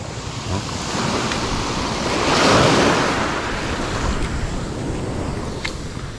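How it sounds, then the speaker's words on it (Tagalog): Ocean surf rolls steadily onto the beach at Blue Lagoon in Pagudpud, a continuous broadband wash that swells to a louder crash near the middle, with wind buffeting the microphone throughout. "Mahampas yung alon."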